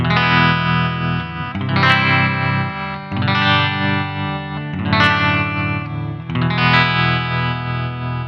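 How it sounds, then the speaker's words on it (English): Electric guitar through a Nux Verb Core Deluxe pedal in its treverb mode, spring reverb with tremolo, playing loud sustained chords in a few phrases, the notes pulsing and washing into a reverberant tail without any talk. "the treverb is an interesting one because it's tremolo and reverb at the same time"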